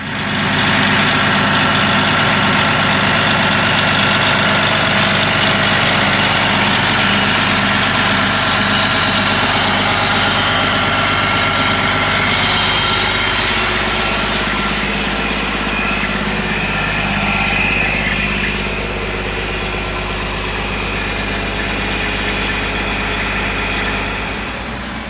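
A vacuum pump evacuates the refrigerant line of a trailer's air conditioner, running as a loud, steady motor drone with a constant low hum that eases slightly in the later part.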